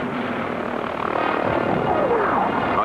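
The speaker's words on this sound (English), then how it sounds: "AH-64 Advanced Attack Helicopter is a weapon system that will do that job." Boeing AH-64 Apache attack helicopter, a steady broadband rotor and engine roar holding at constant loudness throughout, with a faint rising whine near the end.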